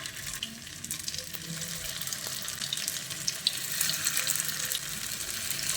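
Soybean kebabs dropped a few at a time into hot oil and ghee fry with a continuous bubbling sizzle, close and moderately loud, swelling slightly toward the end with scattered small pops.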